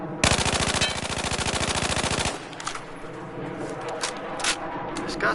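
A carbine rifle in Battlefield 4 fires one loud, rapid automatic burst of about two seconds on a shooting range, followed by lighter clicks and handling noises.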